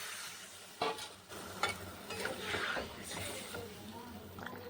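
A catla fish head sizzles and gets stirred through spice paste in a hot pan, a steady close frying hiss with scraping stir strokes and brief clatters, a voice faintly audible in the background.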